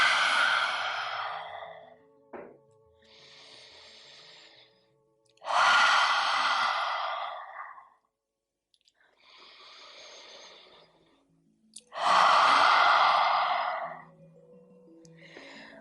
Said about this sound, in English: As you exhale through the mouth, stick out the tongue, ha out the breath